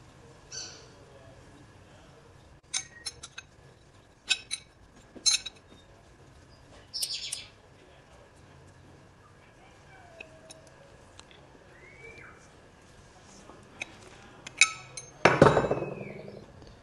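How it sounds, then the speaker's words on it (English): A spanner clinks and taps sparsely against the metal of a heavy-duty Land Rover Defender steering bar as it is tightened, with short, sharp metallic knocks spaced apart over a quiet background. "So just grab a spanner for this."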